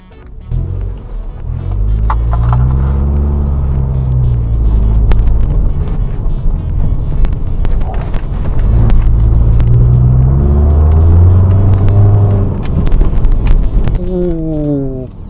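A 2013 Mitsubishi Outlander engine revs loudly through its exhaust, a steady low rumble swelling and falling over several throttle blips, close to the microphone with some wind buffeting and someone talking over it.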